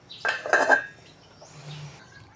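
Metal pot lid set down on a pot of salmon soup, a cluster of bright clinking clatters over about half a second, then a faint low simmering hum.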